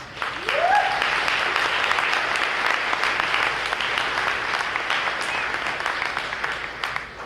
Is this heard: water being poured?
no